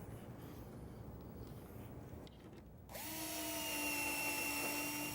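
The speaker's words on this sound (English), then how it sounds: "I'm just going to pocket screw it in place" A cordless drill drives pocket screws into a wooden lower cabinet base, first a low hum, then a loud, steady, high-pitched whine as the screw spins in, close and alone.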